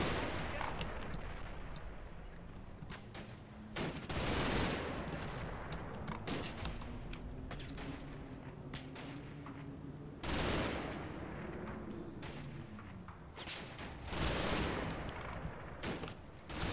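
Sustained gunfire from a military video game: dense rapid automatic bursts and heavy booms repeating throughout, loud and close, with a smoke grenade's cover nearby.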